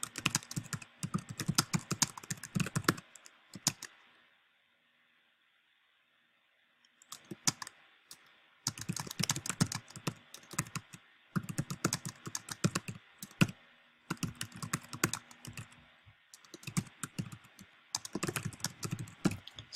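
Rapid bursts of typing on a computer keyboard, close and fairly quiet, with clustered clicking keystrokes broken by a few pauses and one stretch of near silence.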